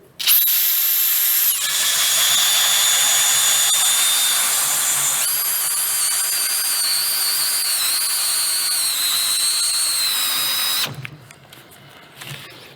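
A power drill with a guide bit bores into wood at a woodworking workshop, a loud steady high whine lasting about eleven seconds before cutting off into quieter handling noises.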